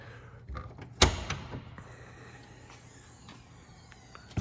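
A 1988 Volkswagen Vanagon GL Westfalia tailgate swings open with a sharp latch clack near the one-second mark, then a brief creak and rattle fade into a quiet background.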